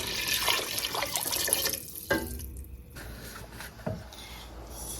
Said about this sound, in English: and then now I'm going to add water.